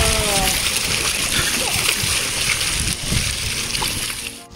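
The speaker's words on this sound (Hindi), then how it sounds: "आया पानी आ रहा है ऊपर से।" Water pours down from above at a hotel water-park pool in Orlando, a loud continuous splashing torrent that holds steady throughout before easing off at the very end.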